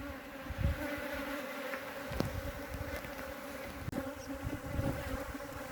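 A honeybee swarm being captured into a hive box fills the air with a dense, steady buzzing hum of many bees close by, continuous throughout with a few faint knocks and no speech.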